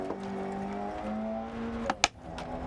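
An F1 race car engine in a video game whines steadily at high pitch, its tone shifting with gear changes, with a brief sharp click near the end.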